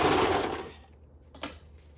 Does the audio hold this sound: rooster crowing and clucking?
no